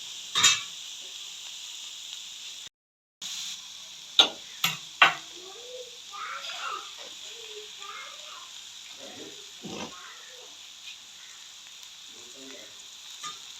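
Egg added to frying onions in a pan for a Jaffna fish curry: a soft continuous sizzle with a few sharp clicks and stirring. A person talks over it.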